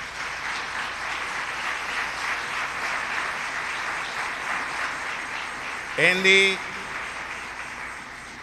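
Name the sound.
applause for Andy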